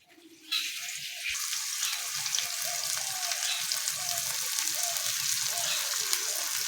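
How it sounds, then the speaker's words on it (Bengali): Chopped onions fry in hot oil in a wok (kadai) for masala brinjal, giving a steady, close sizzle with soft scraping stirs underneath after a brief quieter start. "পেঁয়াজটা ভাজা ভাজা হয়ে এসছে।"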